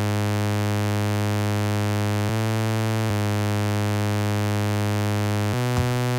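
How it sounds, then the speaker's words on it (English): Bright, buzzy saw-wave synth tone from the Serum plugin in a psytrance bassline sequence, held as long sustained notes that change pitch a few times, loud and steady with no talking. "I created also a sequence in Serum that sounds like this."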